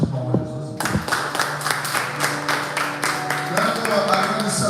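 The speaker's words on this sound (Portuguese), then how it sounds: "Salve de palmas, Jesus." Church congregation clapping during a live worship service, steady rhythmic hand claps from a crowd, loud and close, with voices and sustained music tones running underneath.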